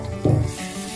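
Masala spices sizzling in a pan during a small-brinjal curry recipe, a short burst of frying hiss that flares up briefly then settles to a low simmering crackle, close and moderately loud.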